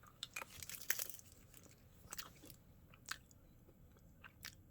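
A green watermelon jelly bean is bitten and chewed close up, with faint, scattered soft crunches and squishy mouth sounds in an otherwise quiet room.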